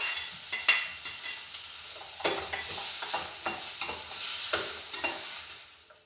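Chopped shallots sizzle and fry in a hot pan while being stirred for a Kerala-style chicken curry, a steady close crackle broken by repeated scraping stir strokes, with no talking.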